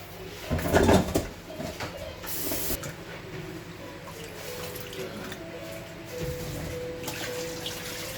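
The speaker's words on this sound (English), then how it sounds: "I want to wash this rice now" Rice being washed under running water in a home kitchen while cooking fried rice dinner, a steady trickle and splash with a louder burst of handling early on, close and alone with no talk.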